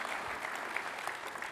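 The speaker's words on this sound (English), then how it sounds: "Huge round of applause to our friends in Azure Developer CLI." Brief, even applause from a conference audience after a developer tools session, a soft continuous patter of many hands heard from a distance.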